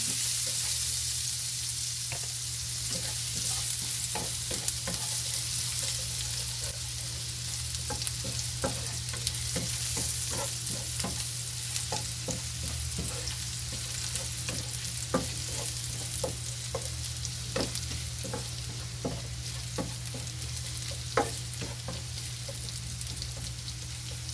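Garlic fries in a pan with a constant soft sizzle and hiss, punctuated by scattered light clicks and taps of stirring, close and steady over a low background hum, with no talking.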